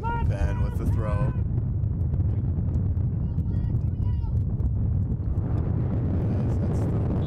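Gusting wind buffets the microphone at an outdoor boys' high school soccer match, a loud continuous low roar with a commentator's voice over the gusts.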